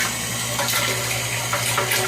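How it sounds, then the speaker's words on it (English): Fuel oil pours from a hose into a container during biodiesel preparation, a steady close splashing rush of liquid with a low continuous hum underneath, alone without talk. "While we're filling this container, the pour off from this hose"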